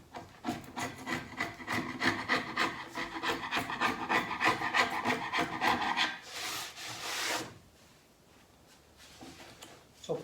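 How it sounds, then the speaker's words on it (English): Excess wood is cut off a bent top for a tall cabinet with repeated rhythmic rasping strokes, close and fairly loud for about six seconds, followed by quieter scraping. "That's just cutting it off. Cutting the excess out"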